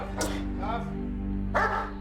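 A police dog gives a couple of sharp barks, one near the start and another later, over a steady background hum with voices.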